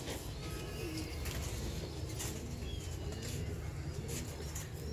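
A large breeder pigeon, grey in colour, cooing softly in a loft during hot weather in Multan, with low repeated coos over a steady background hum and faint chirps.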